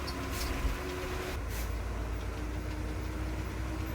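A bus engine runs steadily on a forest road through dense jungle near the Aliyar checkpoint en route to Navamalai, a continuous low rumble with faint tonal hum, fairly close and without talk.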